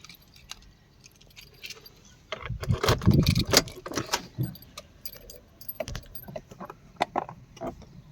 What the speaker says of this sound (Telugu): మీకు టూ కీస్ ఉన్నాయి చూసుకోవచ్చు